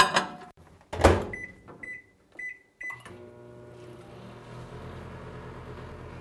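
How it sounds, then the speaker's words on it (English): A 1400 watt microwave oven in a home kitchen beeps several times after door and cupboard clatter, then settles into a low, steady running hum. "This is a 1400 watt microwave."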